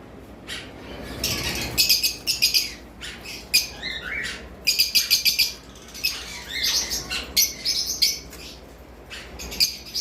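Cockatiels and lovebirds in a breeding setup, giving loud, close squawks and rapid chirps in bursts that overlap and come in clusters, with short lulls between them and no speech.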